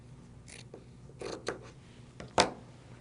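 Scissors or a rotary cutter trims quilt block fabric, a few brief crisp snips and cuts spaced out against quiet room tone.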